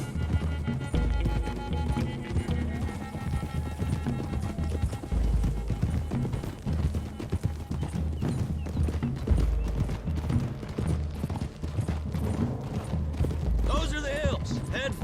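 Horses galloping in Red Dead Redemption 2, a continuous rapid clatter of hooves running steadily throughout, loud and close, with occasional voices and game sound mixed in.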